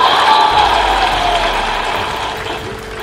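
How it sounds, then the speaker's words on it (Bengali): A large audience at a Bangladeshi political gathering applauds loudly as a dense, continuous crowd roar that stays steady for about three seconds and then tapers slightly, with a low rumble underneath. "আমাদের ক্ষোভের জন্য একটা জোরে হাততালি"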